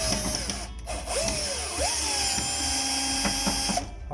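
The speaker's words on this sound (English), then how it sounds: "let's remove the balance 2 screws on the other side" A small power driver whines steadily while backing screws out of a Whirlpool electric cooker hood, the motor pitch rising and dipping as each screw turns loose, close and continuous.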